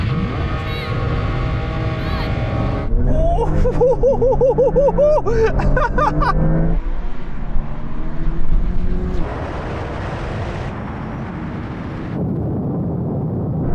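Powerful Porsche engines roar as several cars launch together in a drag race, revs climbing and shifting through gears before the noise recedes into a broad rushing drone.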